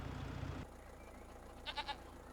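Goats in Farming Simulator 25 give a short burst of three quick bleats after a low rumble cuts off, heard fairly close over a quiet background.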